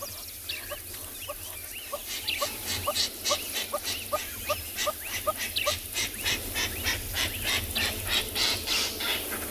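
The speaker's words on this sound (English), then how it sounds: "that is the sound of the lilac-breasted roller" A lilac-breasted roller gives a rapid series of harsh, rasping calls, repeated in quick bursts over steady outdoor background noise on a South African safari.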